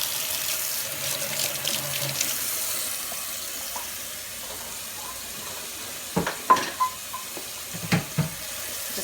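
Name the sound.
hot water pouring into pot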